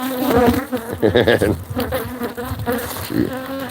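Agitated honeybees buzzing close around a beekeeper in a white coat, loud individual bees zipping past in rising and falling bursts over a constant swarm drone.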